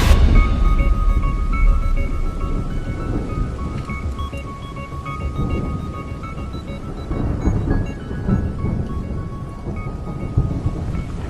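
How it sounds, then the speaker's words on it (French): A night thunderstorm under trees, with heavy continuous rain and deep rolling thunder swelling and fading across the scene, loud and close, with no talking. "on va chasser l'orage"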